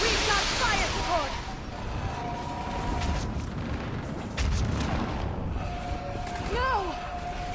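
Artillery fire support explosions in the video game Mass Effect 3 during a battle on Thessia, with heavy rumbling booms and blasts across a dense battlefield din, distant shouts and sweeping tonal whines rising over the steady roar.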